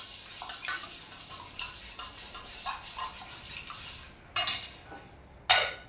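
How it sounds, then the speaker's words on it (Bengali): A spoon stirs Glucon-D drink mix in a glass, giving soft repeated clinks and scrapes with two sharper rings of metal on glass near the end, close and fairly quiet. "এই ছেলের জন্য আবার একটু গ্লুকন ডি গুলে রাখি"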